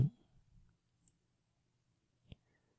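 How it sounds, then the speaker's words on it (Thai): Two soft, isolated computer mouse clicks on a Windows 10 desktop, spaced about a second apart and heard faintly in near silence. "เราก็จะไปคลิกเมาส์ขวาบนไอคอนลำโพง แล้วก็คลิกไปที่ Open Sound Setting"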